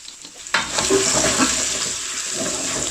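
Garlic and ginger hit hot oil and ghee with a sudden loud sizzle, then keep frying steadily as a spoon stirs them, with crackling spatter throughout for a lamb karahi.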